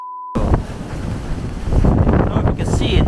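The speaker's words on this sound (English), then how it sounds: "That is quite windy as well." Strong wind buffets the microphone during a hailstorm near a bird-watching tower, a loud continuous broadband roar that swells after a brief silent start and stays dense to the end, with a few gasps and exclamations mixed in.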